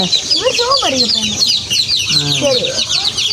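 Backyard hens clucking loudly and close beside a brood of young chicks, whose rapid high peeping runs continuously underneath the hens' deeper clucks.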